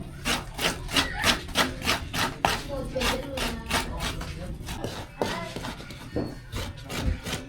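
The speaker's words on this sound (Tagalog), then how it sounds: "At ako po yung magkukudkod na po ng nyug." Fresh coconut grated by hand, a steady run of rhythmic scraping strokes, close and fairly loud, with brief talk in the background.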